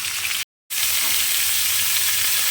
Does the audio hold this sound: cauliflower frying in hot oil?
yes